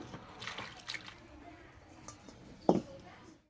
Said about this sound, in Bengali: শাকটা পরিষ্কার করে 2-3 বার ধুয়ে নেব